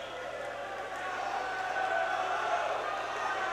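Crowd cheering for a swimmer at a high school swim meet in an indoor pool, a steady broad roar of voices and shouts that swells slightly midway and holds throughout.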